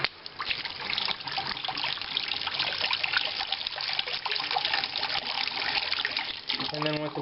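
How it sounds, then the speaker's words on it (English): Cold water gushes at full blast from a sink faucet, a steady, loud broadband rush that runs unbroken for the whole stretch before a brief dip near the end. "one thing I like to do is just full blast, run the water"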